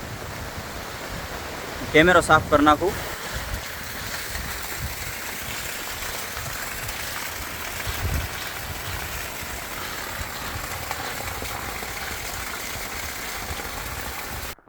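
Heavy rain pours down steadily outdoors on a farm as a broad, constant hiss, with a voice speaking briefly near the start.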